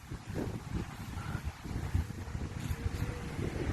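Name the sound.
strong wind at the beach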